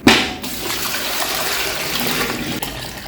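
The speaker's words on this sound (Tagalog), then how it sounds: "So, lalagyan lang natin ng tubig." Water poured from a tap into a pressure cooker holding cans for dulce de leche, a loud rushing splash that starts abruptly and runs steadily for about three seconds.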